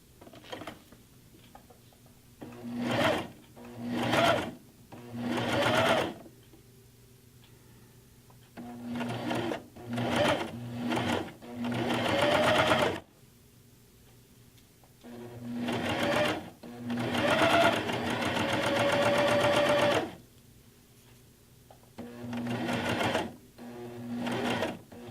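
A sewing machine stitches a jacket seam in several bursts of a few seconds each, separated by short pauses. The whirring is close and steady, with a faint tone under some runs.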